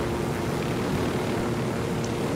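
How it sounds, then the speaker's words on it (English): In the video game Ghost Recon, an airplane drones overhead as a steady, broad engine roar, faint and constant throughout with no break or speech. "Oh, there's a plane."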